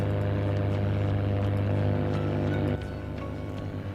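A very loud car engine in the BeamNG driving game drones with a steady, dense roar that drops in pitch partway through and keeps running to the end, with no talk.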